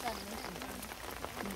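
Rain falls steadily on a rice paddy while workers pull seedlings for transplanting, giving a close, dense patter, with faint voices in the background.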